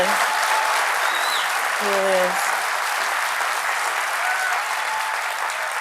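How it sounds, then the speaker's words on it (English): Studio audience applause on a host's late-night show, a dense steady roar of clapping lasting the whole stretch, with a brief spoken remark near the start. "And so the audience applauds"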